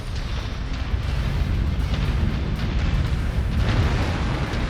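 A mech blows up in the MechWarrior 5: Mercenaries video game as a dense, sustained low rumble of explosion and debris, loud and continuous with a few brighter bursts, no talking.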